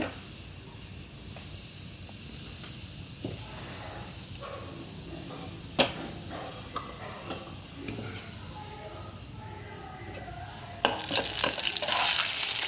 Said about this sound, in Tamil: அதில் கொஞ்சமாக சீரகம் சீரகம் பொரியட்டும்